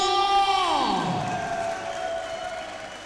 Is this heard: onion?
no